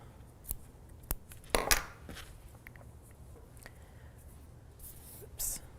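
Scissors snip off a yarn tail on a knitted Christmas lights sweater. A few close, sharp cuts come at irregular intervals over a quiet background, with faint breathy voice sounds.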